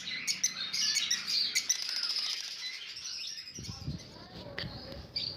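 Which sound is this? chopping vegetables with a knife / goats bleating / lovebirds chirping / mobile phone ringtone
lovebirds chirping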